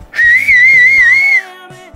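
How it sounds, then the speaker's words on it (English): A handmade whistle is blown in one long, loud, wavering shrill note, followed by a brief faint trailing tone. "Well, we have Prue's handmade whistle"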